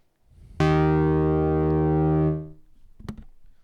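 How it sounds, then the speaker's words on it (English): A single frequency-modulated tone from the DiffMoog modular synthesizer rings out with rich harmonics for nearly two seconds, then fades out, followed by a brief click. "So this is like a frequency modulation that we can do"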